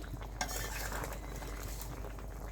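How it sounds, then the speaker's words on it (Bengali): Ground raw cumin paste being stirred into a Bengali-style fish and pointed gourd curry, with soft clinks and scrapes of a utensil against the pot over a quiet simmering sizzle, close by and without voices. "কাঁচা জিরে বেটে রেখেছিলাম সেটা দিয়ে দিলাম একটু নাড়াচাড়া করে মিশিয়ে নিতে হবে"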